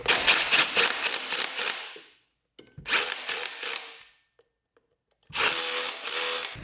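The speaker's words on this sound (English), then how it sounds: "we had to rewind the pull start mechanism" Pull-start recoil mechanism on an ATV engine being worked, giving three loud bursts of rapid ratcheting, whirring clatter separated by short silences, close to the microphone with no talking.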